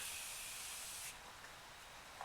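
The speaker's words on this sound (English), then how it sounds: "I'm now just going to put some setting spray on. This is once again the Morphe Continuous Setting Mist." Morphe Continuous Setting Mist setting spray hissing out in one steady, close, fine-mist burst lasting about a second, followed by faint room quiet.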